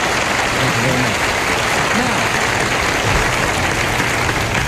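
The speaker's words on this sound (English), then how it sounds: "Thank you for your polite applause." Studio audience of a 1970s television game show applauding, a loud, dense, even wash of clapping that fills the whole short stretch without letting up.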